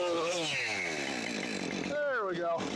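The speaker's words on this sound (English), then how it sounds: "So I grabbed another chainsaw and finished the cut from the other side while Kyle held onto it" A chainsaw cuts through a fallen tree lying on a dock, its engine whining steadily and shifting pitch as the bar bites, with a rising, falling rev near the end. Loud and close, with voices mixed in.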